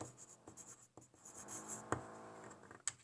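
A pen scratches across a handmade valentine card while writing an invitation, close and quiet, in a series of short, rhythmic strokes with brief pauses and a few sharper taps.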